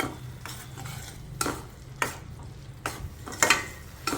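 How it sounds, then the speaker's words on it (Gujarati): A spoon stirs spice paste through cooked tomatoes and onions in a pan for a garlic-clove curry, with repeated scraping strokes over a soft, steady sizzle and no talking. "એમાં જે આપણે પેસ્ટ બનાવી તે નાખી દઈશું। બધું મિક્સ કરી લઈશું"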